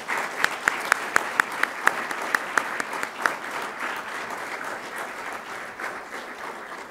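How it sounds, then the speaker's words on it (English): An audience at a college science honors and awards ceremony applauds, with a steady wash of clapping and a few sharp, close claps standing out near the start, and no talk over it. "Let's clap for Laurine, please."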